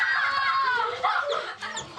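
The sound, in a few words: chicken clucking, produced in a magic trick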